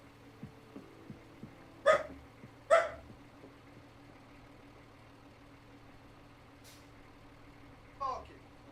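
Dogs bark a few times indoors: two sharp barks close together, then a lone bark several seconds later, over a low steady hum.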